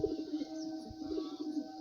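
Domestic pigeons kept for sale coo softly and repeatedly close by in their loft, low murmuring calls with no talk.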